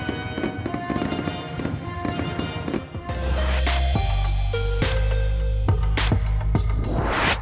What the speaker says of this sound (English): 4th of July fireworks lit up skies across the United States